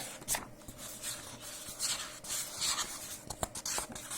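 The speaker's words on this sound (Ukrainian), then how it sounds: "Перевертаємо сторінки." Soft papery rustles and brief scrapes as pages of a case file are turned one after another, close by, with a faint steady background hum.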